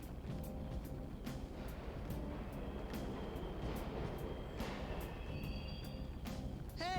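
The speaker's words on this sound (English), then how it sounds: "Trains are totally running." Subway trains running in Persona 5, a steady rumbling rail roar with rhythmic clacks, sustained and moderately loud, ending with a rising squeal.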